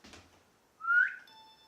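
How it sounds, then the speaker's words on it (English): A single rising whistle, used to trigger a phone camera app for self-portraits, sounds close and clear for about half a second, preceded by a faint soft rustle and followed by a quiet steady tone. "I discovered an app called WhistleCam that allows you to trigger your camera by whistling."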